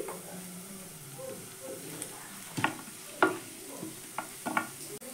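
Grated carrot and cabbage sizzle softly in a hot pan, with scattered scraping stir strokes and a few louder clatters toward the end.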